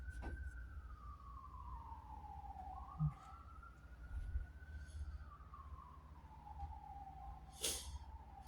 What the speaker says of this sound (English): And then you hear the sirens in the background.